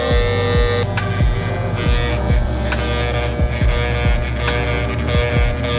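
Electric hair clippers fitted with a number 2 guard feather hair on top of the head, giving a loud, constant motor buzz with a steady hum and rhythmic shifts in pitch as the blade moves through the hair.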